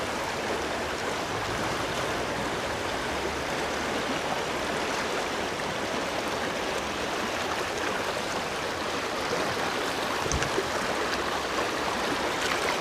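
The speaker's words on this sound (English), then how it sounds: "the seam where the slack water meets the faster moving water" A mountain trout stream near Gatlinburg rushes steadily where slack water meets faster current, a continuous close broadband wash with one brief knock near the end.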